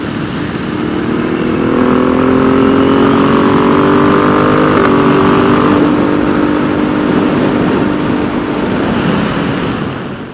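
A Ducati Multistrada 1260S with an upgraded exhaust rides at speed, its loud steady engine note under rushing wind, with a brief quick-shift blip as the revs drop and rise again midway.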